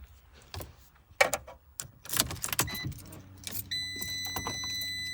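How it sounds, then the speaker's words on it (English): A car key for a Fiat 500 jangles up close in several short, bright metallic bursts, followed by a steady in-car electronic tone and a low hum as the ignition comes on. "all you have to do is just get your key"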